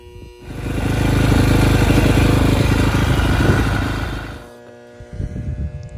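A dirt bike engine runs loud and close for about four seconds with a steady rough roar, then drops away to a quieter idle with uneven putters.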